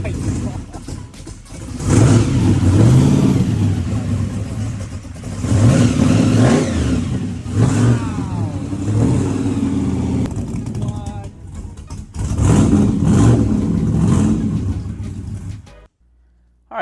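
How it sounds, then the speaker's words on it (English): 383 engine with a 671 blower revving up and down in repeated pulls, loud and close, with speech partly over it, ending in sudden silence. "It's a 383 with a 671."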